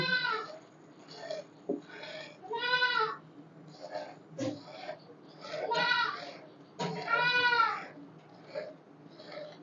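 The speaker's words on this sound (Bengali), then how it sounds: "সোনু দুধ খাবে বলে চিল্লাচ্ছে" A goat bleats repeatedly in loud, wavering cries, several calls in a row with short pauses between them, close by.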